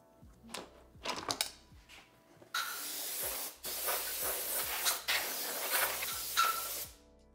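Compressed air blasting sawdust out of a DeWalt 735 benchtop thickness planer in loud, sustained hissing bursts, broken by a few short puffs at the start and brief pauses between blasts.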